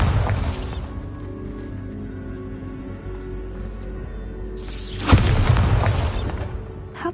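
A Bombarda spell detonates in Hogwarts Legacy, opening with a burst, then a low rumbling stretch and a second loud blast with a crackling tail, close and forceful with no talk.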